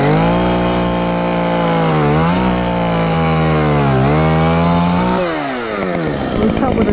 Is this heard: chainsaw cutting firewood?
yes